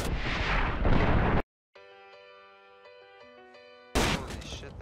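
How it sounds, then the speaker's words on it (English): Two loud, close blasts of video game grenade explosions frame a short gap that holds a sustained electronic musical tone, with no speech over the bursts. "Grenade."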